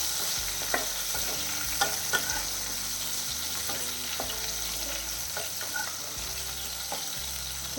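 Ghee heats in a pan and sizzles with a steady, even frying hiss, while occasional soft taps and stirring scrapes come through, close and consistent throughout with no voices.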